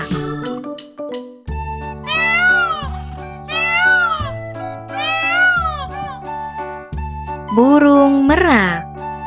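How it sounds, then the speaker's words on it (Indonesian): A peacock gives repeated loud, wailing calls in a series of four rising and falling cries over a low steady background, with no speech heard. "Burung merak,"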